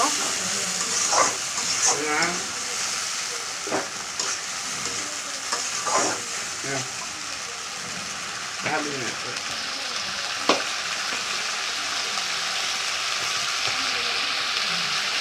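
Egg curry thick with freshly ground spice paste stirred and sautéed in a pan, a steady soft sizzle with scraping strokes of the spoon at irregular moments, voices talking intermittently over the cooking.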